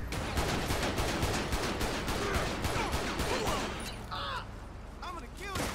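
Rapid gunfire erupts in GTA V with the LSPDFR police mod: a loud, dense volley of shots for several seconds, then it thins to a few scattered cracks and mechanical sounds as the firing stops.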